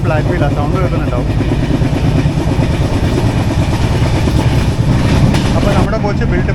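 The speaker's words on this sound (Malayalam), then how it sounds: "നമ്മുടെ കോച്ച് നല്ല ഹെവി ഫ്ലാറ്റ് വീലാണ്," A heavy flat-wheeled coach built at Rail Coach Factory Kapurthala in September 2021, running on the 22114 Kochuveli–Mumbai LTT Superfast Express: a loud, continuous rumble with a steady rhythmic clatter and thump from the wheels.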